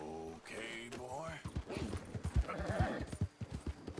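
A horse in the video game Red Dead Redemption 2 clip-clops along in a steady, even hoof rhythm at moderate volume, with a short voiced sound near the start.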